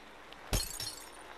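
A single sharp pane of glass shattering in the physics game Happy Wheels, a sudden loud crash followed by a brief tinkle of falling shards, then quiet.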